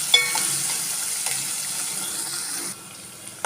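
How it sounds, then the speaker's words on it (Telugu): Sliced onions with salt fry in a pan for curry, a close broadband sizzling hiss with a few light clicks of stirring, which drops away sharply near the end. "ఇప్పుడు ఇవి బాగా ఎర్రగా వేయించుకోవాలి"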